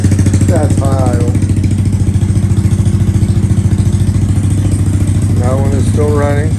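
A Honda Grom motorcycle with a Yoshimura exhaust idles high after a cold start: a loud, steady, close putter with a fast even pulse, and someone talks over it.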